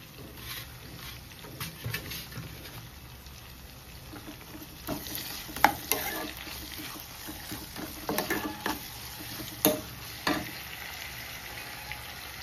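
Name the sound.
frying and stirring curry after adding coriander stems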